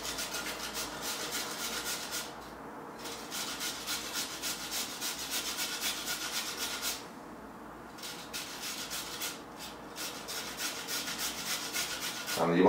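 Carrots rubbed against a grater for chicken soup, a steady, close rasping scrape that runs almost without pause, with a couple of brief gaps between strokes.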